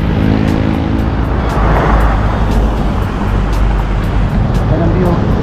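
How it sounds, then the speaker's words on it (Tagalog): Heavy road traffic with many cars and engines on a steep uphill road in Baguio, a loud continuous roar and rumble throughout, close by, with no clear speech. "Ang daming sasakyan."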